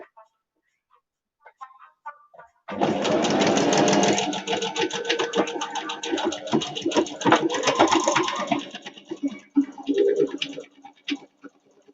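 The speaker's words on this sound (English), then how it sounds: "sewing machine's going back on for anyone that doesn't like it" A sewing machine stitches thin cotton for a children's book cushion, starting after a few quiet clicks and then running in fast rattling bursts with brief pauses, close and fairly loud.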